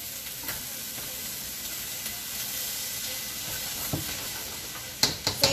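Meat stir-fries in a non-stick wok for Chinese takeout, a steady close sizzle and hiss with a few sharp clatters of the utensil against the pan near the end.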